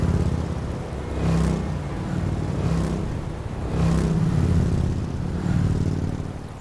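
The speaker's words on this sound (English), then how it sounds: "Occasionally, though, traffic got rather heavy." Heavy road traffic on a winding valley road in Corsica, with several vehicles passing one after another, each engine swelling loud and close and then fading, leaving a steady rumble between passes; no voices.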